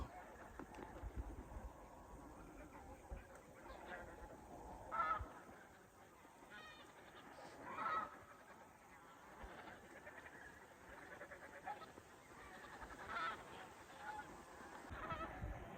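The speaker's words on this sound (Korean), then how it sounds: "이 새가 기러기인데요. 기러기 소리 한번 들어보시죠." Wild geese honk at a wetland lake at a Ramsar site, with scattered calls coming and going at a distance over a faint background of insect hum and ambient noise.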